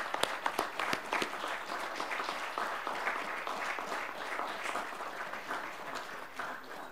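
An audience at a session of the Podlaskie regional assembly breaks into sustained applause, a dense, even clatter of many hands clapping in an indoor hall that carries on steadily for several seconds without speech.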